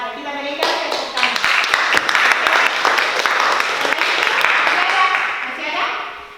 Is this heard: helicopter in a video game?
no